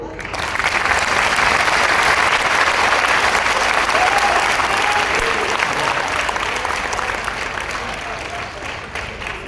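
A large crowd at a Hindu religious gathering, the Sanatan Jagrati Sammelan, breaks into loud, sustained applause that holds strong for several seconds and then eases slightly toward the end.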